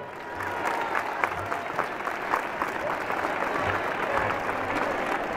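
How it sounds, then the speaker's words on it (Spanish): At a cancer charity gathering in Calatayud, a large crowd applauds together, many hands clapping in a sustained, moderately distant roar that holds evenly throughout with faint crowd murmur beneath. "Esto es para que nos demos un aplauso todos."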